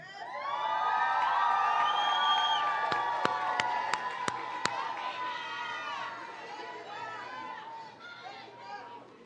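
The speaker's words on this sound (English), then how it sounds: "Graduates, please applaud your family and support once more." Nursing graduates at a commencement ceremony applaud and cheer their families, with loud crowd whoops and shouts swelling into a lively roar, a few sharp claps standing out, then the din fading.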